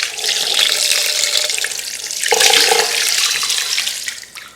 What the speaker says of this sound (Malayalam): അപ്പം നമ്മൾ കോഴിയിലേക്ക് ഒഴിക്കുകയാണ്